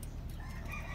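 A rooster crows faintly among chickens kept in a rooftop coop. The crow is a brief, distant call over low background noise.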